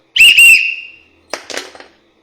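A toy whistle gives two quick, shrill blasts, then a breathier, rougher burst follows after a short pause, loud and close with no talking.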